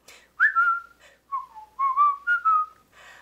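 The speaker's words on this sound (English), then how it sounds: "Just purse your lips and whistle, that's the thing." A whistled melody from a cheerful song, heard as several clear sustained phrases with gliding pitch, rising and falling, close and alone without talk.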